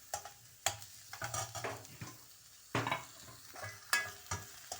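Vegetables being lightly sautéed in a pan while a spoon stirs and scrapes, with soft sizzling under a few sharp clinks and scrapes against the pan.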